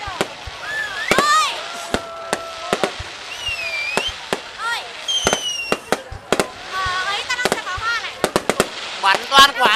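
Laser fireworks shells going off, sharp cracks and pops at irregular intervals mixed with rising whistling squeals, close and loud, with people talking in the background.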